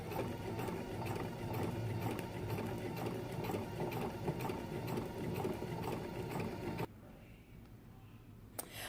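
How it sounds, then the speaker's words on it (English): A sewing machine stitches a dress seam with a fast, steady mechanical whir and rapid needle ticking, close and continuous before it stops abruptly, leaving a quiet pause with a faint click. "so I've sewn down"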